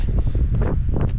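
Wind gusting on a hike through the Marseille calanques, a loud, steady rumbling roar buffeting the microphone with no break.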